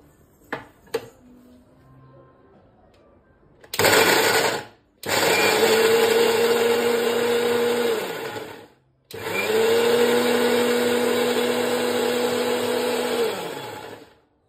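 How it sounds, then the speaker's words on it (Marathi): Mixer grinder blending tomato chutney with coriander in its jar, loud steady whirring motor in two long bursts separated by brief pauses, with a short starting pulse and a few faint clicks before; no talk. "मिक्सरच्या भांड्यात काढलंय मी। आता हे फिरवून घेऊया।"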